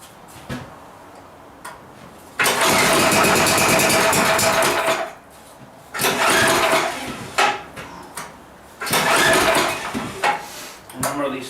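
An old, long-unused snow blower engine is cranked in three loud bursts, each a few seconds of rough mechanical clatter separated by quieter pauses.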